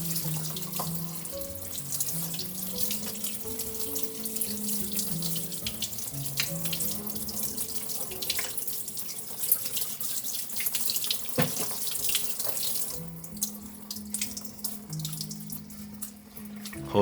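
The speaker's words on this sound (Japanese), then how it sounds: "急いでほうれん草をざるにあげる。" Boiled spinach is tipped into a colander in a kitchen sink, and water pours and splashes steadily from the tap and drains for a long stretch, close and moderately loud, with brief clatters partway through.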